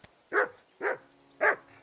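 Mutt the dog barks three times in Kingdom Come Deliverance 2, evenly spaced, close and clear, with no talking between the barks.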